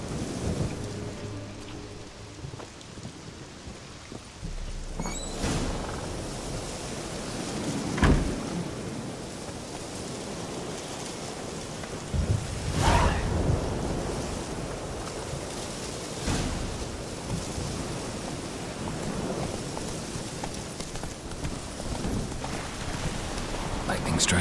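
A thunderstorm rages in The Witcher 3: Wild Hunt, with heavy rain hissing throughout and several sharp lightning cracks and thunderclaps striking at intervals, loud and close, while voices speak briefly in places.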